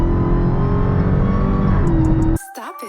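A 2020 Dodge Charger SRT Hellcat Widebody runs close by with a sustained engine drone and a high supercharger whine layered over it. It cuts off abruptly near the end, leaving brief faint noises.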